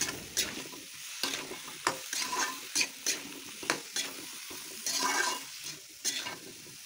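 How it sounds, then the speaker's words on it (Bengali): Raw mango pieces and drumsticks are stirred through spices in a hot pan, with a rhythmic series of scraping, sizzling strokes about twice a second over a soft frying hiss, close and with no talking. "এখন আমি দিয়ে দিব কেটে রাখা আম আর সজনা ডাঁটা। তারপর এটা মশলার সাথে ভালোভাবে নাড়াচাড়া করে মাখিয়ে দিয়ে"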